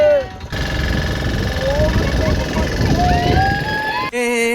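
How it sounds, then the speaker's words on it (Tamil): A generator runs loudly and steadily, a continuous mechanical drone with knocking engine texture filling most of the stretch; a voice speaks over it, and it cuts off abruptly near the end. "நீங்க ஃபுல்லா ஜெனரேட்டர் சவுண்ட் தான் கேட்க ஆடியோ கேட்காது."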